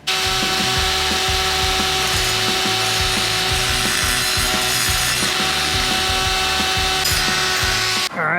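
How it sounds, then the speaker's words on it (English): A die grinder works burnt threads in a suspension tube insert, giving a continuous loud whine with a rapid, rough grinding chatter that runs without a break until it stops at the end. "I'm gonna get in there with a die grinder, see if I can clean that out."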